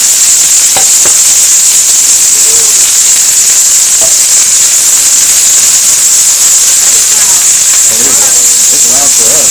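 Onions and corn sauteing in olive oil in a pan give a loud, steady, close sizzle throughout, with a few faint scrapes of stirring.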